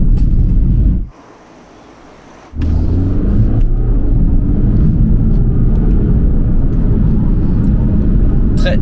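A car with a stage 1 engine remap drives along, giving a loud, steady low engine and road rumble from inside the cabin. The noise drops out briefly for about a second and a half, then returns at full strength.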